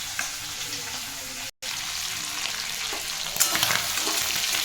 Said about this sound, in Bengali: চিংড়ি মাছ এখানে আমার ভাজা হয়ে গেছে